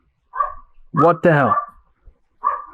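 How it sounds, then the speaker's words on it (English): Dogs barking upstairs inside a house, two short yapping bursts at the start and end, with someone talking loudly in between. "What's going on with those dogs up there, man?"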